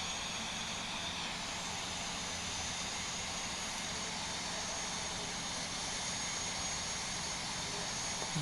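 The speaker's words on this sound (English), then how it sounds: "the plane started taxiing towards the runway" Airplane taxiing toward the runway, a steady broadband engine rumble and hiss holding at an even level throughout, fairly loud and continuous with no voices.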